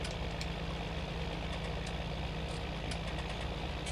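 A tractor engine idles steadily in Farming Simulator 19, a constant low rumble with a mechanical hum that stays even and loud throughout, with no talking.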